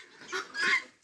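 Farmyard poultry, including bantam hens, chickens, ducks and guinea fowl, cluck in a brief, close burst of a few quick calls.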